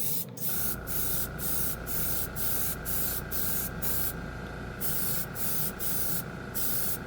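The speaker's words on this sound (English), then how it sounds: "It sprays really nice, though." An airbrush sprays gold chrome ink drawn from a cheap paint marker, a steady close hiss broken by short bursts and brief pauses in a regular rhythm, heard alone.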